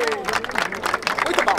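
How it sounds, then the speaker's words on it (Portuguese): A crowd at a rap battle claps in a brief burst of dense, overlapping applause with voices and shouting mixed in. "Palmas pra batalha."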